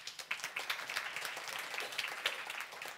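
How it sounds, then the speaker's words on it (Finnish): Quiet, distant applause from a seminar audience, scattered individual claps blending into a light, steady patter for a few seconds. "Aplodit myös heille."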